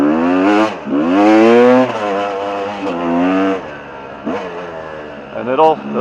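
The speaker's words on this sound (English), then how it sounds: "Give it some gas." A motorcycle accelerates while being ridden through sand, its engine rising and falling in repeated loud revving surges that sweep up in pitch, close to the microphone and dominating throughout.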